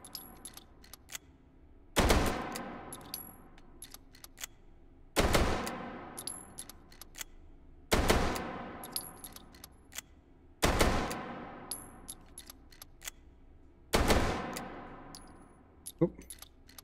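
A machine gun in Hot Dogs, Horseshoes & Hand Grenades fires five short, sharp bursts spaced about three seconds apart. Each burst cracks loudly and rings out briefly, with faint metallic clicks of handling in between.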